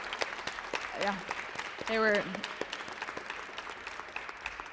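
Audience applause breaks out at an advocacy day press conference, a short loud burst of clapping amid ongoing speech from a speaker at the podium.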